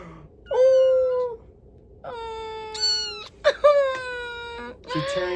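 A one-month-old female kitten meows several times in high, drawn-out cries, close and fairly loud, with short pauses between calls and a scratchier sound at the end.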